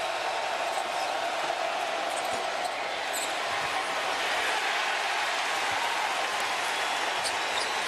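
Steady roar of a college basketball arena crowd cheering after an LSU three-pointer, dense and loud throughout with faint court sounds underneath.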